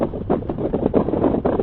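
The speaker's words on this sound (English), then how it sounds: "It's a windy day too" Steady wind buffets the microphone with a low, continuous roar and no voices.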